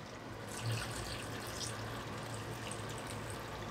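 Tap water runs steadily into a cooking pot holding chopped potatoes, carrots, pumpkin and peppers, a continuous close hiss and splash with a low hum underneath, no talking.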